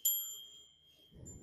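Bell of a 1953 Olympia SM3 vintage portable typewriter: one bright, clear ding that rings out and slowly fades, followed by a soft mechanical rustle as the carriage moves.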